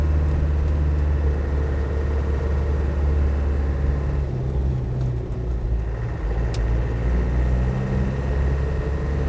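Classic Land Rover Defender 90 soft top under light throttle while driving, a steady loud engine drone with turbo whine layered on top, continuous and close with no talk.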